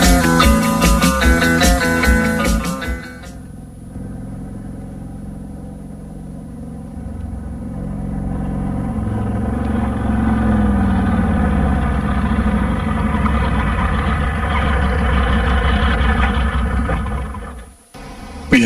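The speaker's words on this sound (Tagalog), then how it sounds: "may motor man nga miabot" A motorcycle arrives, its engine drone rising and holding steady at mid distance after a brief burst of music, then cutting off near the end.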